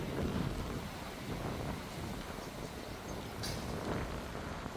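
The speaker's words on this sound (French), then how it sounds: "Le bruit des rafales derrière." Sandstorm gusts roar steadily across the microphone in a dense, rumbling wash of wind noise that swells slightly and never lets up, with no voices heard.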